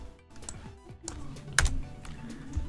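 Keystrokes on a computer keyboard while entering a formula in a Word document: a few scattered clicks and taps, fairly quiet, with a sharper cluster of strikes in the middle.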